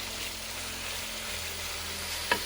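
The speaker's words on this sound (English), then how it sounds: "so let that sear" Beef sears in a pot for a vegetable soup, giving a steady, even sizzling hiss throughout, with one brief sharp click near the end.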